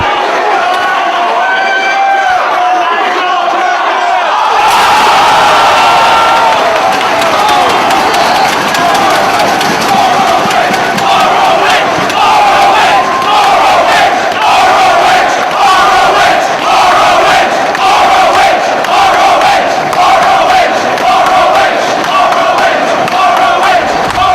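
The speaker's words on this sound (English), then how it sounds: "Nigel's fans here in Philly getting behind him" A wrestling crowd in Philadelphia roars during a Ring of Honor match, loud sustained cheering and shouting that surges in after a few seconds and stays intense, with scattered thuds and slams among the noise.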